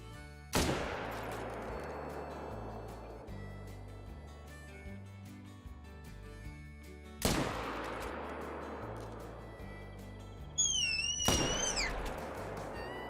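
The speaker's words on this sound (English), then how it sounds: "Let's shoot this one first." Three loud rifle shots in a red deer hunting video game, aimed at a stag and spaced several seconds apart. Each sharp crack rolls into a long echoing tail over a quiet outdoor ambience, with a faint bird call near the last one.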